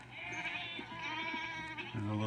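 A young kid goat on a farm bleating, with several short wavering cries in a row and a stronger call at the end, close and fairly faint, among the sounds of other livestock.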